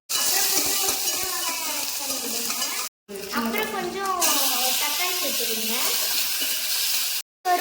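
Mustard seeds sputter and sizzle in hot oil while making anchovy fish curry, a crackling hiss under a person talking, broken by a couple of brief silent cuts.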